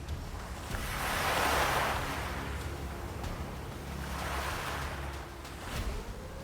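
Sea surf surging against a rocky island shore on the Arabian Sea, broad washing roars swelling and fading in two long waves, with steady wind noise over the microphone and no voices.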